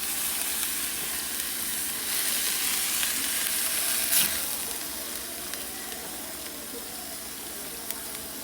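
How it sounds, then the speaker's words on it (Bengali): Ground greens fry and sizzle in a pan with a steady hiss, broken by soft scraping stirs and a brief louder clatter partway through. "ভাজা ভাজা করব।"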